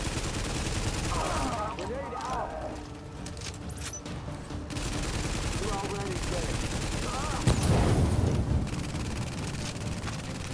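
Tom Clancy's The Division gunfire: a dense, continuous fusillade of shots that stays loud throughout, with brief voice fragments under it and a heavier burst near the end.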